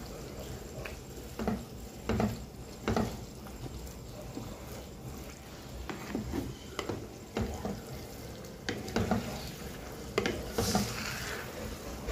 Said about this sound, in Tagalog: Haluin hanggang sa matuyo.